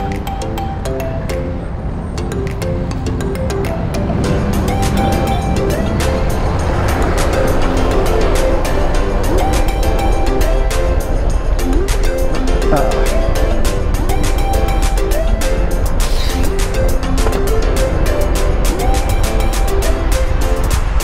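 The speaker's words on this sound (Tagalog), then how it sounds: "Medyo traffic nga lang dito sa Valenzuela." Road traffic in Valenzuela, Metro Manila: a steady, loud wash of engine and tyre noise close by, building slightly in the first seconds and then holding constant, with someone talking over it.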